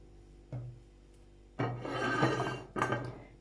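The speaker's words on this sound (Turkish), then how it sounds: "Karıştırıyorum dereotunu" A spoon stirring dill into a yogurt and celery salad in a bowl, producing soft, wet scraping and rubbing strokes in a few short bursts with quiet gaps, close and gentle.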